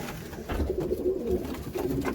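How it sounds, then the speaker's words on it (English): Pigeons in a loft, including a big cock bird, scuffle and coo in a steady low murmur, with soft flapping bursts throughout and no voices. "These birds are fighting."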